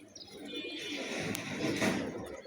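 Pigeons coo close by outdoors in a rural spot, a soft low repeated burble running through the whole moment with light background noise and a brief sharp sound near the middle.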